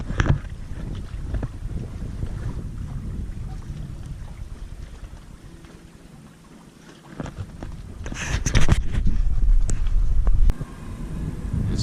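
A sailboat moves through Long Island Sound, with soft water wash and gusting wind buffeting the microphone, a quiet stretch in the middle, then louder splashes and knocks near the end.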